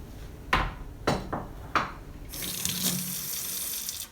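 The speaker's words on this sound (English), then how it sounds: "I just dampen my hands by running them under water." A kitchen tap runs while hands are dampened under the water before rolling meatballs. A few sharp splashes and knocks come first, then a steady, moderately close hiss of running water fills the rest.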